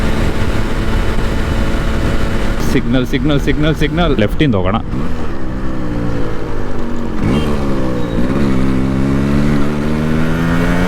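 A fully restored Yamaha RX 135, a 135cc two-stroke motorcycle, revs as its throttle is opened, the engine note climbing and falling under continuous nearby talk.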